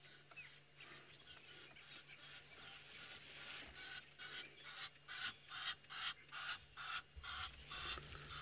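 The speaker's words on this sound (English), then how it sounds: "So that was just a sound from the Egyptian geese." Egyptian geese call outdoors on an African safari, giving a run of repeated honking cackles that grows louder and more rhythmic, over hot-weather ambient noise and a low steady hum.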